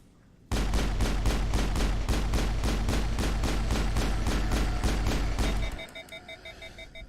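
Sustained rapid assault rifle fire in the Mass Effect PC game, a dense, loud burst of evenly spaced shots lasting about five seconds, then breaking off into a faint repeating electronic beep.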